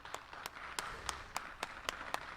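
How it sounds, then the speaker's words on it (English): Slow, spaced hand claps, about nine distinct sharp claps at a fairly even pace, faint and close in a quiet room with low background hiss. "that's not a slow clap"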